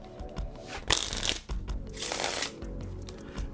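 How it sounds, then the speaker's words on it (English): A riffle shuffle of a deck of playing cards, heard close up as two quick bursts of fluttering card riffles, each followed by softer handling and squaring of the deck, with no speech. "Now we're gonna go into the Riffle Shuffle. The Riffle Shuffle looks like this."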